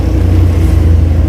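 Road traffic heard from inside a car gives a loud, steady low rumble of engine and road noise, close and continuous, with no talk.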